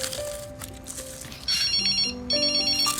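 A phone ringtone plays in repeated electronic bursts, a melodic ring starting about halfway through and recurring, fairly close with some background noise underneath.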